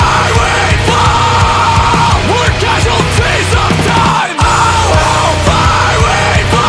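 A metal singer yells lyrics in a song, harsh, loud vocal bellows over heavy driving instruments and pounding drums, with a brief drop in the music partway through.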